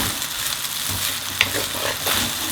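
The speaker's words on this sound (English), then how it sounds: "And I'm going to just give it a quick fry so it heats up just for a minute or two." Chicken chow mein noodles fry in a hot pan with a continuous, close sizzle and a few soft stirring scrapes and taps, with no talk.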